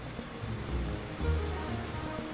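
Water rushing steadily through an apple sorting flume, a broad continuous wash with gentle surges and no voices.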